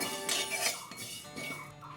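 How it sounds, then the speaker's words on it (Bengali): A spatula stirs fenugreek seeds frying in a pan for a Bengali dried-jujube pickle, giving close, steady metallic clinks and scrapes against a faint sizzle, with no talking. "একটু নেড়ে চেড়ে ভেজে নেবো"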